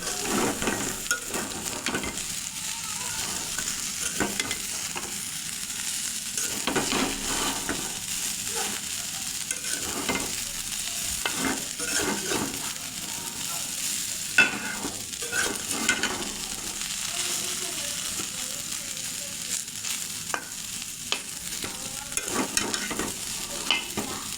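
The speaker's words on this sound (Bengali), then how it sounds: "আবারও নেড়ে চেড়ে ভেজে নেব কিছুক্ষণ" Bitter gourd stir-fried in a pan, a steady sizzle broken by repeated scraping and stirring strokes of a spatula, close and continuous throughout with no talking.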